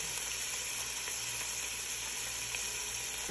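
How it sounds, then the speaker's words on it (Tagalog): Tomato paste sizzles steadily in a hot pan as it is stirred in with coriander leaves, a dense continuous frying hiss held at an even level throughout without talk. "Mix ko siya. At lagay ko na itong isang box ng tomato paste."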